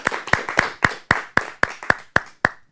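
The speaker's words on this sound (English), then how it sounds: "Let's have a big round of applause for all of our speakers today." A small group claps for table topics speakers at a club meeting, about ten crisp, evenly spaced claps in a short burst, close and fairly loud with no talking.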